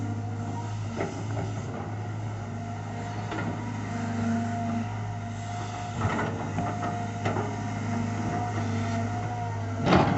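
A CAT 320GC excavator shapes a pond, its diesel engine droning steadily with an even hum and occasional louder rises and clunks from the digging.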